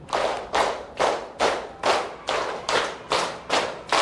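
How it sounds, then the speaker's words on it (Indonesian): A classroom group claps together in a tight, even rhythm, about nine crisp unison claps spaced roughly half a second apart, loud and close with a short room echo after each. "tepuk 5 2 kali"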